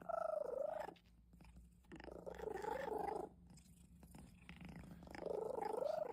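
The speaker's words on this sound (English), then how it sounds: "Oh my god, I never heard a cat sound like that." A cat makes an odd, purring, chewing-like vocal sound in two loud bursts with a quieter, softer stretch between them, close to the listener.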